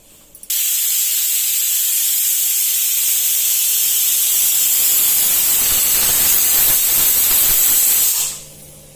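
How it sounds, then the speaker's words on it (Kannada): A pressure cooker vents steam in a loud, steady hiss that starts abruptly, holds for about eight seconds, then cuts off. "ಕುಕ್ಕರ್ ಕೂಗ್ತಾ ಇದೆ"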